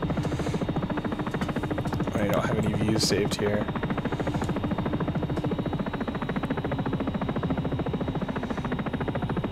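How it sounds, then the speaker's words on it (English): Simulated helicopter in X-Plane 11, a steady loud rotor buzz and engine hum running throughout, with a person talking over it. "Oh, I hate helicopters so much."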